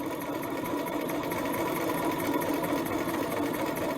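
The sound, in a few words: sewing machine stitching around a patch pocket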